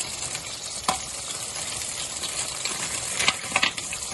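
Pre-cooked frozen mussels hit a hot pan for a fish risotto with tomatoes, giving a continuous close sizzle and hiss punctuated by a few sharp clicks and crackles, with no voices.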